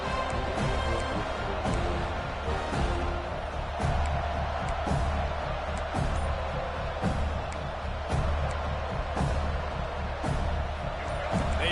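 Stadium crowd in the College Football 26 video game, a steady dense roar of many voices filling the whole stretch, with occasional thumps and claps and a commentator's voice talking over it.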